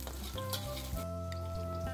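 Garlic, shallots and crushed bird's eye chilies frying in oil in a pan give a steady, close sizzle with a few scraping stirs, and nobody speaks.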